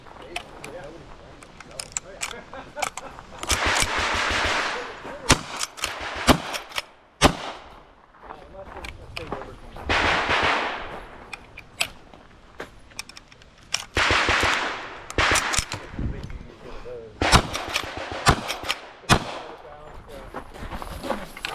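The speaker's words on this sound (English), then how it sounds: "This one required you to shoot every target 3 times also." Carbine gunfire on a shooting competition stage, with several strings of rapid, sharp shots fired in quick bursts separated by short pauses, loud and close throughout.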